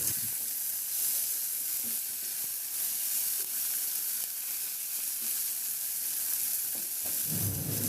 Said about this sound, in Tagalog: igisa ko na rin yung bawang at luya. Maglagay na rin ako ng sibuyas.